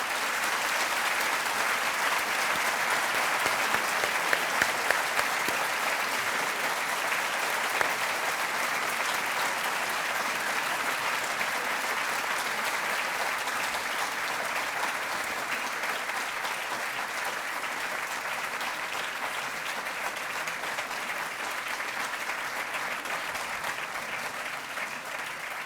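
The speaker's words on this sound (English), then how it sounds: "Thank you for that modest applause." Sustained audience applause after a lecture on the future of Europe, a steady even wash of many hands clapping in a large hall, moderately distant and continuing without letup for the whole stretch, with no talk over it.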